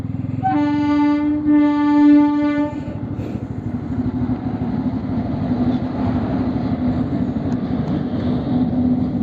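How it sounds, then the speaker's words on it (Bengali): A train passes a railway level crossing, sounding a long loud horn blast before its wagons rumble past close by with a continuous rhythmic clatter. "জাস্ট তালিতে রেলগেটটা ক্রস করলাম চলো অনেকক্ষণ জ্যাম ছিল এখানে পরপর তিনখানা রেল গেল"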